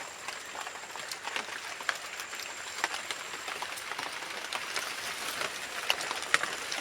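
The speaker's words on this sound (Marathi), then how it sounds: "तर आज अचानक पाऊस आला" Sudden heavy rain patters down on farmland, heard from shelter under a teak tree, with scattered louder drops and splashes, a continuous wash of noise and no voices.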